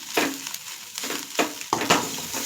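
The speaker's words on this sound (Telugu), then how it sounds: "ఇప్పుడు ఎగ్గు, ఆకు ఫ్రై రెండు కలిపిన ఫ్రై వేపుడు" Egg and amaranth leaves fry in a pan, a soft sizzle punctuated by three or four distinct scraping stirs and clatters, close and moderately loud, with no talk.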